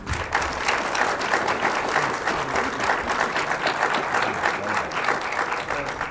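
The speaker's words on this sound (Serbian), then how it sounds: "Jedan aplauz." Audience applause at the 2019 Serbian Film Festival award ceremony: dense, steady clapping from a crowd that holds at an even level throughout, with no talking over it.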